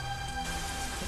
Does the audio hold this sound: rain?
yes